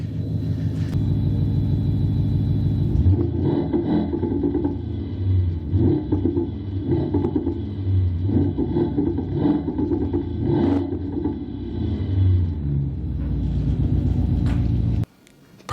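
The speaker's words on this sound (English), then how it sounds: "let's switch to the C63. The C63 is a lot louder." Mercedes C63 engine running loud and close, a deep steady rumble with repeated revving swells, heard alone before it cuts off abruptly at the end.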